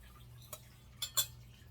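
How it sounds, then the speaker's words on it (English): Melted soy wax for candles stirred slowly in a container; three faint, sparse clinks of utensil against the vessel over a quiet low hum. "Again, you want to stir very slowly."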